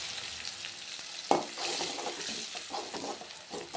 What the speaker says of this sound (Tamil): எண்ணெயிலே கொஞ்சம் நேரம் வதங்கிக்கலாம்.